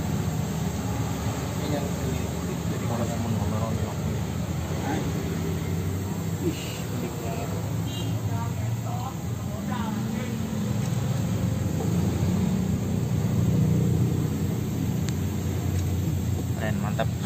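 A medium gas stove burner roars steadily with a blue flame, a continuous broadband rush heard close and loud throughout, with people talking over it.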